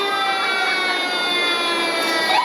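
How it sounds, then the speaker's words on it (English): Steady wailing ambulance sirens from Nelson County EMS in a Bardstown Christmas parade drone continuously with a dense, harsh tone, moderately loud and unbroken throughout, with no voices. "Let's give a listen to the sirens."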